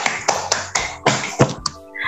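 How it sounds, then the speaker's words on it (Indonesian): Children in a classroom clap their hands during a teacher-training lesson, giving about seven sharp, separate claps in a loose rhythm over two seconds before they fade. "tepuk tangan untuk Mbak Dinda"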